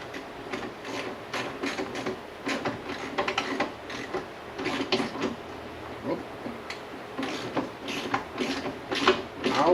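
Fender and mud flap being screwed down with a ratchet, giving rapid clusters of close mechanical clicks in uneven bursts.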